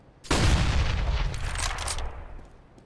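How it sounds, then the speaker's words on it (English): A flashbang grenade goes off in Counter-Strike on the de_cache map, a sudden sharp bang after a brief hush that settles into a ringing, decaying rumble over about two seconds. "I'm throwing a flashbang."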